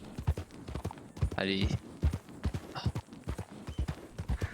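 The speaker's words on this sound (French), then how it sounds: "Comment tu es un beau petit cheval, hein?" In the Red Dead Redemption video game, a horse's hooves clip-clop in a steady rhythm, with a brief whinny partway through. Someone speaks over much of it.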